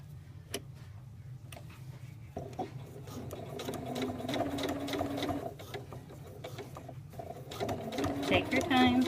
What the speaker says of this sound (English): Now we're going to return the placket where we want it. And stitch through the shirt.